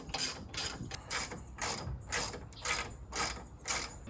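A ratchet drives screws back into a Toyota FJ Cruiser grille, about eight short bursts of rapid clicking in an even rhythm, close and crisp, with no talk.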